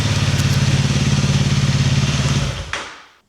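A Fireblade motorcycle engine idles close by with a fast, even, throbbing beat, then cuts out abruptly and winds down to silence, with a brief click at the switch-off.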